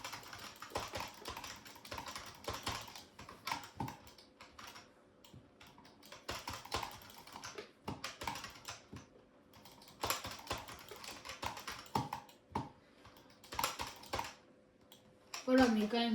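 Rapid clattering keystrokes on a cheap computer keyboard come in bursts with short pauses, close and fairly quiet, and a faint voice sits underneath at times.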